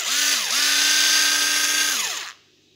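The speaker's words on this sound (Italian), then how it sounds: "Ok, raga, questo è il trapano." A small electric drill whines loudly, dips briefly, then spins up to a steady high pitch before winding down and stopping.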